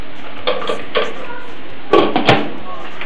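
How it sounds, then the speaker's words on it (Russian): A metal lid clatters onto a pot of aspic (kholodets) being made, with a couple of light clanks, close by, amid faint kitchen background noise. "Так, закрываем крышкой."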